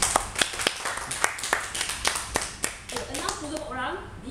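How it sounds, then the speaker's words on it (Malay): A small audience at a Malaysian public-speaking club meeting gives scattered, distinct hand claps in an uneven rhythm, fairly soft, with a voice talking over the later part. "Beri tepukan"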